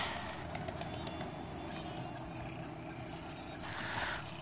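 Pigeons at an open-air rural pigeon setup in the Cherat area of Nowshera, with faint soft cooing and bird calls over steady outdoor background noise.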